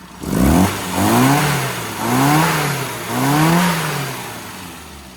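A classic car with freshly tuned SU carburettors revs on the road in three smooth rising and falling surges, close and fairly loud, with the engine settling between each swell.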